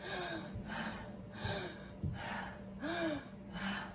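A voice imitates the labored breathing of a child in respiratory distress: a series of about five sharp, strained gasping inhalations in a steady rhythm, close and fairly loud, with no speech.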